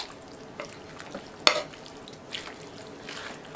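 Soft scraping and stirring in a pot of vegetable beef soup with leftover roast and lima beans, with a few quiet clinks and wet shuffling sounds and one sharper knock against the pot.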